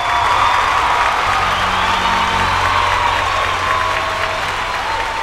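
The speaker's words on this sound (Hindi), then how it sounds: "जोरदार ताली बजा के स्वागत करी" A studio audience at a Bhojpuri singing reality show claps and cheers, dense and steady, welcoming a singer, with some whoops mixed in and a low hum underneath.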